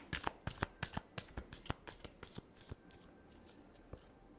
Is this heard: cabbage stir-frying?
no